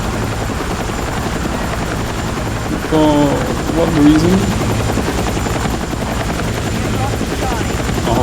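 A helicopter flies in the video game Battlefield 6, its rotor and engine making a steady, loud drone throughout. Players talk over it.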